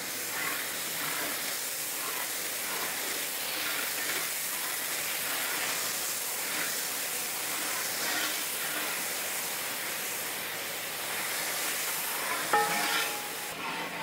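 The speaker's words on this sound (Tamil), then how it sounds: "இது எல்லாத்தையும் மொத்தமாக சேர்த்து கிண்டிக்கலாம்" Mutton leg paya mixture with yogurt and salt stirred in a large pot, a steady hissing simmer with repeated soft scraping strokes and a clank near the end, no talking.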